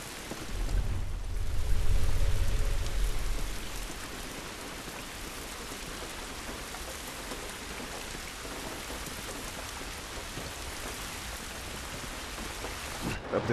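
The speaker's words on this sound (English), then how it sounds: "This rain ain't gonna do us any good." Rain in The Last of Us video game, a steady dense hiss of falling rain on surfaces with a low rumble swelling early on, continuing evenly with no voices.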